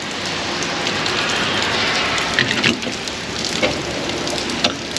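Steady rain pours onto a 2013 Chevrolet Camaro SS, a dense, even hiss of drops drumming on the car with a few louder spatters, close and continuous with no talking.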